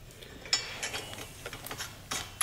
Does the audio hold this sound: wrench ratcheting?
yes